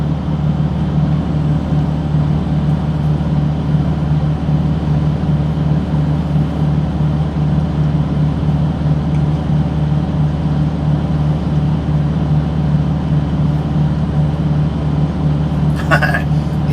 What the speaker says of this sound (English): The truck beside us is regenerating.